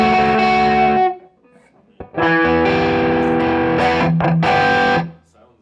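Electric guitar through a Vox AC30 amp and Klon overdrive pedal plays loud, crunchy chords in two bursts separated by a brief pause, with a gritty, slightly compressed tone.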